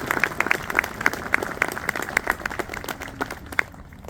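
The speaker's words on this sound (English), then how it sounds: "we can give them a round of applause." A crowd gives sustained applause at a gathering, a dense rattle of many hands with scattered louder claps close by, tapering off at the end.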